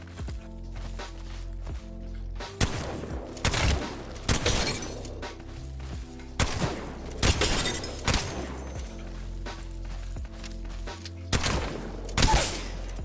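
The Mastiff shotgun from Apex Legends fires repeatedly in a firing range: several heavy, punchy blasts at uneven intervals, each with a sharp crack and boom, mixed with light footsteps and movement between shots.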